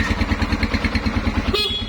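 A 225cc motorcycle engine idles up close in a garage, a smooth steady rhythmic putter with a brief higher blip near the end.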